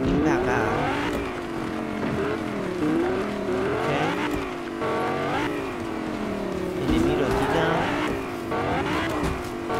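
Car driving in the video game Fortnite, its engine droning and rising and falling steadily throughout, with voices talking over it.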